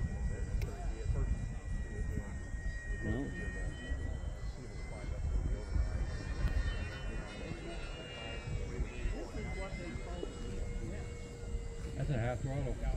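A Corsair warbird's piston engine drones in flight at a warbird fly-in, a steady, fairly loud engine roar that holds throughout while people talk over it.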